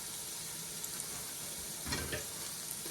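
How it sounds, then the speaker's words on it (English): Onion sautés in a pan with rendered fat for a chicken stew, a soft, steady sizzle heard close but quiet, with a brief louder burst of stirring midway. No voices. "and saute this onion"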